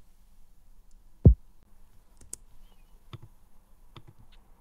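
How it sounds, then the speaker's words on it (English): A simple lo-fi kick drum pattern programmed in Logic Pro X, dry before any compression or EQ, with one clear low thump followed by a few softer hits and faint clicks, quiet and alone. "Then for the kick, this is also a very simple kick pattern."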